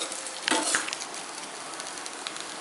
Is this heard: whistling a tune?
no